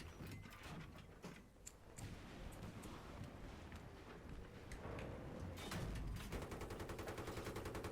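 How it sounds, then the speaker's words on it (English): Mobile artillery explosions in the Battlefield 3 video game, a rapid burst of crackling blasts and mechanical rattling, growing louder toward the end and ending in a dense rolling barrage. "this little rainbow of explosives right there you just saw, that's the mobile artillery"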